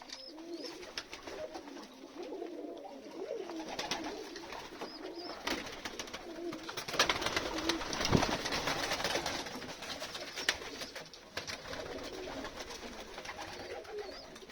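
Pigeons coo softly at an evening feeding on a cold, windy day, with repeated low calls over steady wind and rustling, and a louder burst of noise in the middle.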